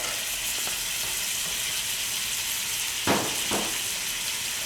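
Garlic fries in a pan with shrimp, a constant bright sizzle that holds steady throughout, broken by two brief stirring scrapes near the end.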